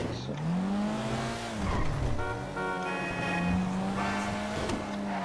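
Car engine revving and accelerating in GTA 5, a rising and falling engine tone with some tire noise, loud and continuous, under a faint background voice.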